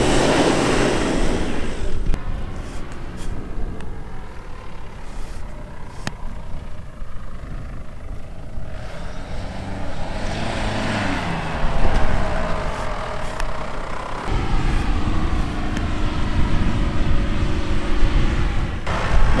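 A 3.2 litre SUV crawls through sand dunes off-road, its engine a steady low rumble that swells and eases over about twenty seconds, with wind and vehicle noise filling the scene and no clear talk.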